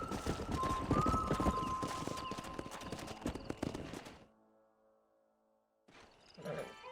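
Horse hooves clip-clopping in the video game Red Dead Redemption, a quick steady rhythm of hoofbeats for about four seconds, then near silence before faint sounds return.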